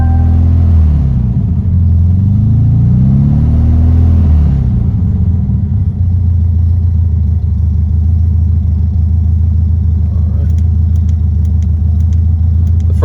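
A VW Beetle engine warming up after being shut off on the road, a steady loud low rumble with a slight rise and fall in pitch, running alone and close for the whole stretch.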